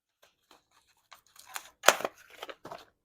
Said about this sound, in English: Can I have the scissors, please?